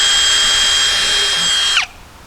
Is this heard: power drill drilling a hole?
yes